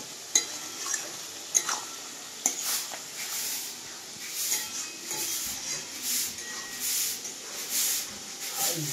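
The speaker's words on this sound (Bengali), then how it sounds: "এইভাবে আমি কিছুক্ষণ ভাজবো।" Eggplant frying with spices in a pan for tamtum, giving a steady soft sizzle and hiss with a few sharp clinks of a utensil against the pan near the start.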